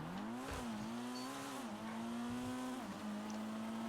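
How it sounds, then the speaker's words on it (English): Rally-build Ford car engine in GTA V, a steady droning drone with smooth pitch swells as it revs up and eases off, loud and close with no talk over it. "Nice sounding engine"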